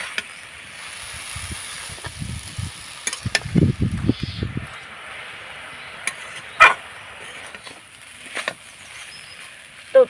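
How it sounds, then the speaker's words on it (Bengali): A spiced potato filling is stirred and fried in a pan. A spoon scrapes in uneven bursts early on, a faint sizzle runs underneath, and the later stretches are quieter, with only a few clicks and taps. "এবার নাড়াচাড়া করে খুব সুন্দর করে ভেজেও নেব আর কষিয়েও নেব।"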